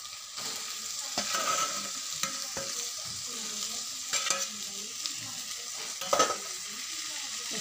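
Eggs frying with onion in a pan give a steady sizzle throughout, with occasional scrapes and taps of a utensil stirring against the pan, close and alone without talk.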